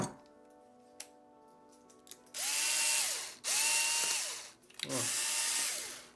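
A freshly oiled and reassembled Wahl Lister Stablemate livestock clipper whirs up in three loud bursts. Each run is a close, buzzing motor whine that rises in pitch and then stops, after a few light clicks.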